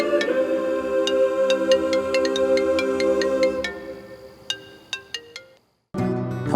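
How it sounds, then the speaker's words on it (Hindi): A phone ringtone plays a bright, repeating melody over a sustained tone, then a few isolated chimes, a brief silence, and the tune starts again. "तुम्हारा फोन बज रहा है"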